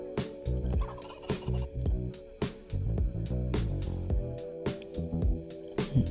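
A turkey creature called a Sun Turkey gobbles in a Thanksgiving fishing quest within a video game, its repeated gobbling calls loud and close over a busy background of game music and clicking effects.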